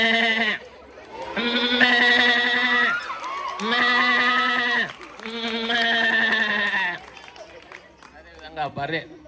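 A human voice imitates a goat bleating, giving three long, loud, wavering bleats close to the microphone, each lasting about a second or two, with short pauses between them.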